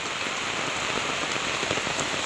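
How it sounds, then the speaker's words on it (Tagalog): Heavy rain pours down on surfaces nearby in a dense, constant hiss and patter, loud and unbroken, with no voices. "malakas-lakas din po yung ulan"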